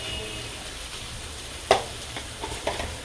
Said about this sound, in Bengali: মাছের ঝোল ফুটে উঠেছে